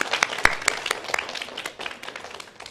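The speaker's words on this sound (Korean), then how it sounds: "박수 한번 주세요" Applause greets a ballet dancer between pieces at a storytelling drawing performance, a crowd clapping in a steady spread of sharp claps that slowly thins out, fairly close and filling the room.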